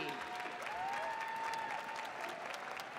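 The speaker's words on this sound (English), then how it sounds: "Please join me in a round of applause for the graduates of the Master of Science in Healthcare Analytics and IT." Steady applause from a graduation ceremony audience honoring Master of Science in Healthcare Analytics and IT graduates, moderately distant and even, with a faint tonal whistle or voice passing above it.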